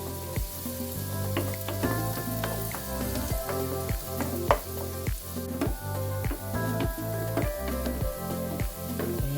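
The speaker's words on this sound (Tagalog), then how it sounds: "haluin lang natin yung bawang hanggang sa mag-golden brown na siya" Chopped garlic sizzles loudly in a hot pan while a utensil scrapes and taps through it in a regular rhythm, frying toward golden brown for a butter garlic shrimp dish; close and continuous, with no voices.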